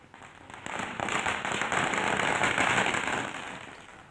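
Firecrackers set off by party workers celebrating a newly installed flex banner in Kolar, a dense rapid string of crackling bursts that swells in loudness, peaks, then tapers off, with no voices.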